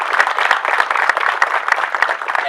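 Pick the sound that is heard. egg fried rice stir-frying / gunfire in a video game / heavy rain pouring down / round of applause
round of applause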